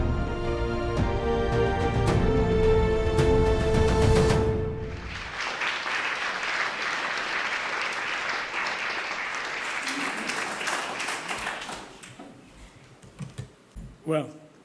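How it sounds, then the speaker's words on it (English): An audience at an awards ceremony breaks into sustained applause after music ends, a dense steady wash of clapping that gradually thins out and fades to scattered claps. "Should we applaud again?"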